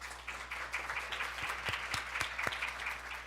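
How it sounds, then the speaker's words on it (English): Audience applause at an education conference plenary session: a moderate, sustained patter of many hands clapping, with a few sharper individual claps standing out over a low background hum. "So let's give them another round of applause."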